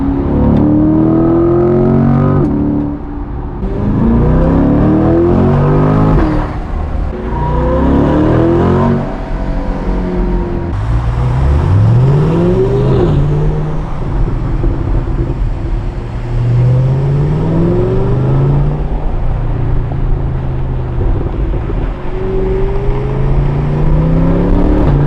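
Chevrolet Corvette C8 fitted with an AWE Touring exhaust revs loudly and repeatedly, rising and falling engine sweeps with sharp throttle blips, close by and alone for about twenty-five seconds.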